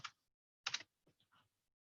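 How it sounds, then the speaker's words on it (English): Short bursts of typing on a computer keyboard while entering text into a search field, a few quick clustered key clicks with brief pauses between them, close and fairly quiet with no talking. "I'm just going to type in here ANC"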